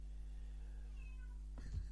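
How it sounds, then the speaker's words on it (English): A single short cat meow sounds from the door, brief and moderately close against a low steady background hum. "Ernest the Cat Miller is at the door."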